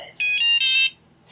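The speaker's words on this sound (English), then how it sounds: "So you can hear a little beep there, and we can calibrate the radio." An OpenTX radio transmitter gives a single short, bright electronic beep, clean and close, with near silence around it.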